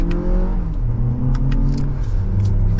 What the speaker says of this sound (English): with that hybrid power, we can get back up to speed here as we're merging into traffic